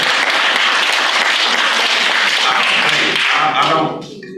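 Sustained applause fills a city council meeting chamber, dense and steady for about four seconds before tapering off abruptly near the end.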